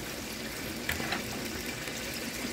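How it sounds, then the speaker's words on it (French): A seafood tajine simmers in its pot with a soft, steady bubbling hiss, quiet and close, broken by a few faint pops. "Et ça mijote."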